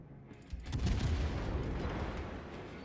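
A warship in the World of Warships video game fires a full broadside, a heavy rumbling boom of cannon fire that swells quickly and rolls on loudly without pause.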